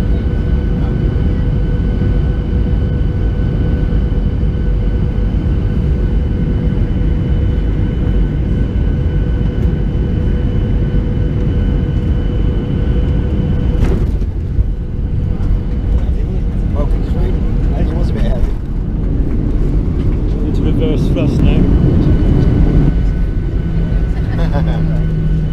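Airplane in flight on a trip to Sweden, with the air brake deployed and then closing: a steady, loud cabin drone of engine and airflow throughout, with voices talking over it.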